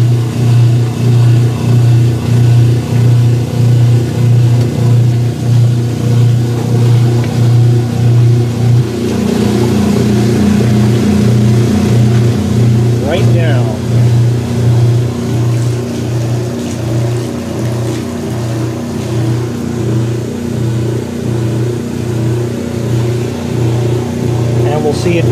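Kenmore 80 Series washing machine running, a steady loud mechanical hum with a rhythmic low churning pulse that shifts partway through as the cycle changes, continuous for the whole stretch.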